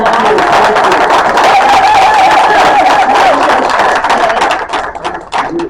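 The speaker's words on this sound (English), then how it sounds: "Please, a round of applause" Applause and crowd noise from an audience thanking a discussion panel on peace in Palestine, a dense, steady wash of hands and murmur that tapers off near the end.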